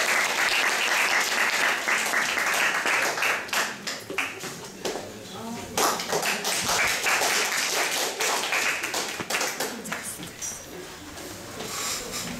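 A lecture audience gives a big round of applause to welcome the speaker Yiombi Thona, steady loud clapping throughout with scattered taps and a few voices mixed in.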